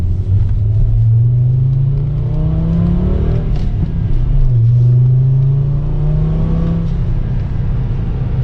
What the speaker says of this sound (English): This car sounds good though. Sounds cool.